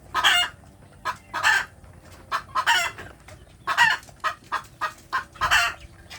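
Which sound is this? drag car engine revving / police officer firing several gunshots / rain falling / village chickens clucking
village chickens clucking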